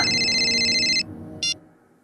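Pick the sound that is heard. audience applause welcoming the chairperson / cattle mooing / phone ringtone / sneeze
phone ringtone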